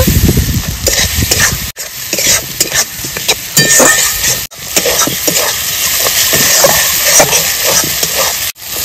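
Spice paste of ground cumin, dried red chili, ginger, salt and turmeric fries loudly in a pan for a village-style duck curry, a steady close sizzle broken by repeated spoon scrapes and stirring clinks.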